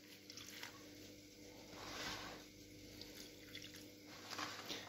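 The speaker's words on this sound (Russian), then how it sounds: "После того, как добавили соль, добавляем воду." Water poured into a baking dish holding trout and salt makes a faint, soft trickling and splashing sound that swells and fades alone in a quiet kitchen.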